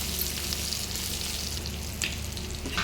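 Crushed garlic fries in hot tempering oil, a continuous close sizzle with small crackling spikes, heard on its own without speech.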